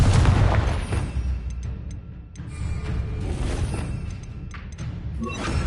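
Confringo blasting spell explosions in a Hogwarts video game, repeated booming thuds and bursts over a busy rumbling background, fairly loud and close.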